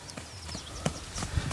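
One-year-old bay Lusitano filly's hooves clip-clopping, a few soft, uneven hoof strikes close by against a quiet background.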